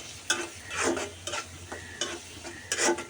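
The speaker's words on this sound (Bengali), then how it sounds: "ডাকটা দিয়ে দু তিন মিনিট এভাবে কষিয়ে নেব" Shrimp for a Bengali chorchori sizzles in a pan while a spatula scrapes and stirs in repeated strokes. The frying is close and steady, with no voices.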